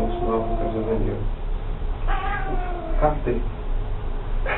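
Lissu, a pet cat, gives several short, close meows in quick succession over a constant background hiss, with brief human voice sounds mixed in.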